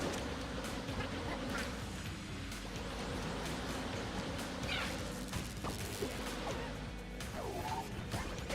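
Buzzing bees in Enter the Gungeon during a busy run, a thin insect drone mixed into a dense stream of gunfire crashes, thuds and other game effects, with no talking.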